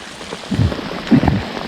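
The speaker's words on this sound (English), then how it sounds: "it's pouring down raining" Heavy pouring rain during a crappie fishing outing, a dense steady hiss close by with a couple of brief low thuds or movements mixed in.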